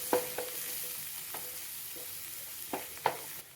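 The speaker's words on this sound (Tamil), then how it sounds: "நம்ம மீன் ஃப்ரை பண்ண இதே எண்ணெயில் கட் பண்ணி வச்சுருக்கிற ஒரு சின்ன வெங்காயம்" Chopped small onion sizzles in oil already used for frying fish, a steady close hiss broken by a few sharp scrapes and taps of a stirring spoon against the pan.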